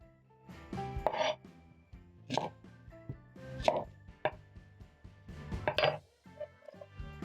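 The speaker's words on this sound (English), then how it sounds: "Using my knife, I'm going to roughly chop up my onions." Several knife cuts fall on white onions against a cutting board, roughly chopped in irregular bursts of close, crisp thuds with small clinks between and quiet gaps, no voice.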